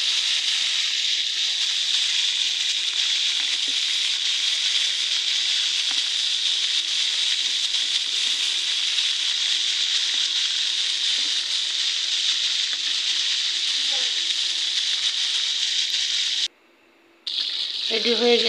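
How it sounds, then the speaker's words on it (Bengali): Mutton pieces deep-frying in a wok of hot oil give a steady, dense sizzling hiss that holds evenly and close throughout, with a brief dropout near the end. "এই যে কড়াইতে ডুবা তেলে ভাজতেছি।"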